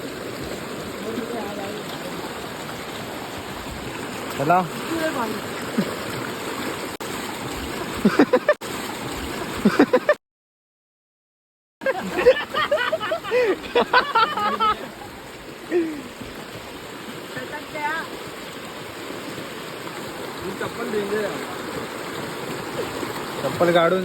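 Flowing stream water near the Kasarvadavali waterfall gives a steady broadband rush outdoors, with people talking over it and a brief silent gap midway.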